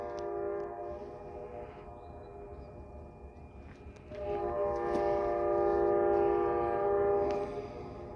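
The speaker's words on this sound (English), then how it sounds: "That's CSX on the other side of the river." A CSX coal freight train rumbles across a river in the distance with a long horn blast swelling in the middle, faint and far off.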